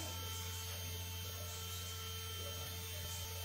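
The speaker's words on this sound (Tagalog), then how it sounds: "Electric fan guys, ang ingay ng electric fan." An electric fan runs with a constant low hum and steady whirring drone, unchanging throughout.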